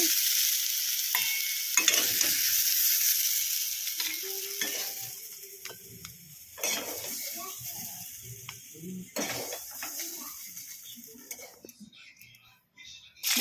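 Pointed gourd (potol) pieces fry in a pan with a soft sizzle while a spatula repeatedly scrapes and stirs, giving scattered clicks and knocks close by.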